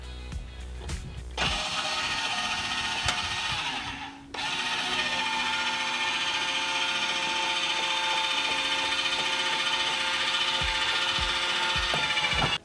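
JT Strong Arm electric RV stabilizer driving up and down, a steady motorized whirring drone after a few clicks, briefly dipping near four seconds and then running continuously and fairly loud until an abrupt stop.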